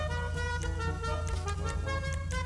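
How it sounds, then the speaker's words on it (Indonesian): A car horn in GTA 5 sounds as a sustained, steady honk with a harmonic tone, holding evenly throughout at moderate loudness, with no speech. "Terus ini adalah klakson ya."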